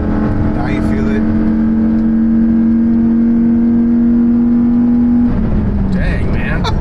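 A Chevrolet Colorado five-cylinder with its exhaust manifold deleted, revving hard at full throttle, a loud raspy engine tone climbing steadily in pitch before easing off, heard from inside the truck.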